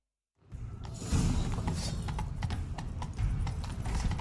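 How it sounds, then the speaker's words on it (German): Galloping horse hooves in The Witcher 3 video game, a steady fast clip-clop rhythm close up and fairly loud, with no talk over it. "Nimm dir ein Pferd. Wir reiten ihm nach."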